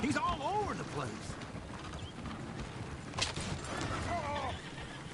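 Horses whinny and neigh in a PS4 video game, shrill rising-and-falling calls at the start and again near the end. Clip-clop hooves and creaking wooden carriage parts run underneath.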